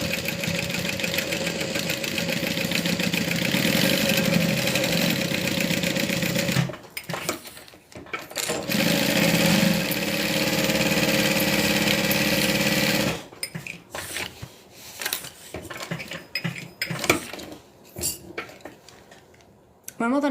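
Sewing machine stitching vinyl on a wristlet, running in long steady bursts of rapid mechanical chatter, close and fairly loud, separated by pauses filled with quieter handling noises.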